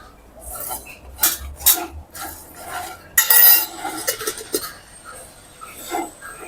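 Pan of coriander seeds shaken over heat, giving several bursts of rattling, clinking metal and seeds, close and fairly loud, with a louder scraping burst in the middle.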